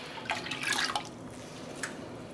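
Liquid sloshes and drips as a natural dye pot of logwood and cutch is stirred, with a cluster of splashy strokes early on and a lone drip later, close and fairly quiet.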